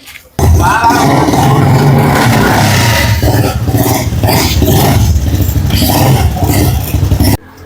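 A motorcycle engine revs loudly and close by, rising and falling in a few throttle bursts before cutting off near the end.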